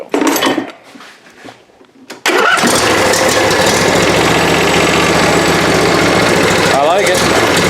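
A Toro Titan zero-turn mower engine, primed with carb spray, cranks and catches, then settles into a loud, steady close running drone, with speech briefly at the start.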